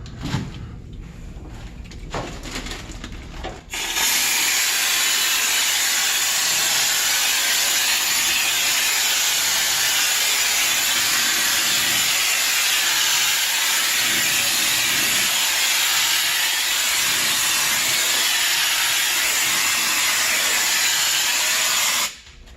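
A spray gun lays Lizard Skin coating onto a 1968 Camaro: after a few faint knocks, a loud, steady, close hiss starts and runs unbroken for nearly twenty seconds before cutting off.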